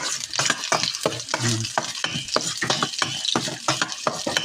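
Adobong palagatik cooking in a pan, with repeated scraping stirs over a steady sizzle of frying, loud and close, in rhythmic strokes about twice a second.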